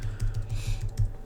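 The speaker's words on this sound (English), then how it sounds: "Let me just type Zephaniah in." Quick, steady keystrokes on a computer keyboard, close and clear, a short burst of typing with no voices.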